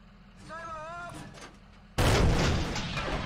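A single heavy tank cannon shot from the Su-85 tank destroyer in World of Tanks, a sudden loud blast with a rumbling tail, preceded by quieter game sounds.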